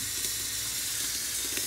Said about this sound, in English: I'm just gonna put some dish soap, maybe like 4 squirts, and then water into this